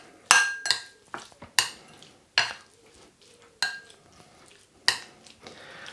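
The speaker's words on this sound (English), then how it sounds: "give that a stir" A utensil stirring a marinade with sesame oil in a bowl for beef ho fun: several bright clinks and scrapes against the bowl in uneven bursts, close up and with no talk.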